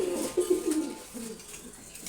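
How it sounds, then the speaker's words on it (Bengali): Male racing pigeons coo nearby, a few soft low throaty calls in quick succession, fading out over about two seconds. "দেখেন রেসার কবুতর এখানে সবগুলো নর কবুতর"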